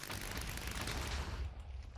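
Sound breathing from a Minecraft Demon Slayer mod throws off a burst of rapid crackling pops like fireworks, a dense quiet crackle that thins out toward the end.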